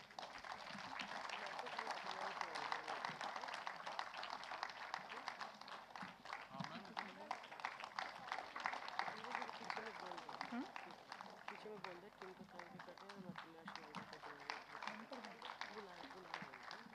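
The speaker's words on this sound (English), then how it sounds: "we request everyone to give a big round of applause" Audience applause at a book launch during a conference plenary on women's leadership, sustained dense clapping throughout, fairly loud and steady, with some voices mixed in.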